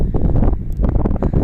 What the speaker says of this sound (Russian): Ах, ветер задувает.